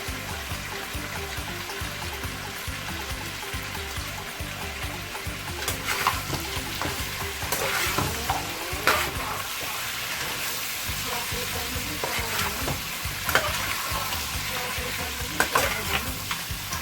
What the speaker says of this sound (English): I'm going to fry my tomato paste.